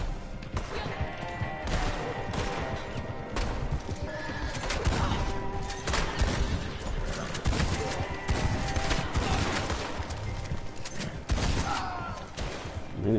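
Repeated horse whinnies and neighs in Red Dead, with hoofbeat clip-clop and bursts of gunfire mixed in amid a busy game soundscape, fairly loud and continuous.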